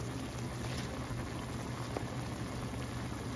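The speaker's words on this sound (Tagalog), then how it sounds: "Ngayon kumukulo na siya guys, pwede na natin buksan." Water bubbles and churns at a steady rolling boil, a continuous close hiss and burble without any voices.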